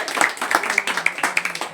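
A group of people at a training class clap their hands in a steady rhythmic beat, fairly close, with voices chanting along throughout.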